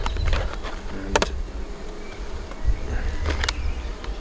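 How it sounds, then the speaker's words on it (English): Honeybees crammed into a hive box with wild comb built up into the feeder, giving a dense, steady buzzing hum with a few louder passes and clicks on top. "bees are crammed up here"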